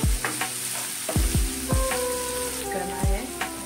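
Onion, garlic, ginger and chili paste fry in hot oil for an egg curry, giving a steady close sizzle with repeated sharp crackles and spatters, and no voices.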